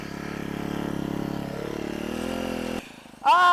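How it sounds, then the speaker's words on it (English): A four-stroke engine runs flat out at steady high revs for close to three seconds, loud and harmonic-rich, then cuts off; a brief higher whining tone follows at the end. "Sound of a 4-stroke going flat out."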